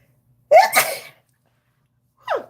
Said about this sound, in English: ooh, my nose, hold on, sneezing, is it sneezing?